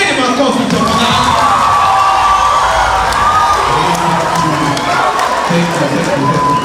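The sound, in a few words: crowd cheering and clapping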